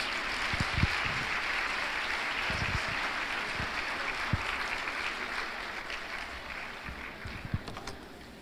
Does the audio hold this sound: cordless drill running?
no